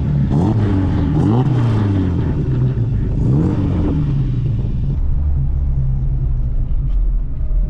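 A classic Alfa Romeo Giulia 1300 TI sedan engine revs loudly and continuously, its pitch rising and falling through several gear changes before settling into a steady, rumbling drone near the microphone.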